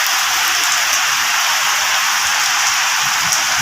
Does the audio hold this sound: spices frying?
no